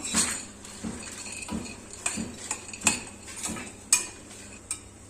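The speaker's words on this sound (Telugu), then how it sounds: "ఇందులోనే ఇవి కూడా మిక్స్ చేసేస్తున్నాను" A spoon scrapes and taps against a cooking pot as grated coconut and other ingredients are stirred in off the heat, giving a rhythm of about eight distinct clinks and scrapes, close and without speech.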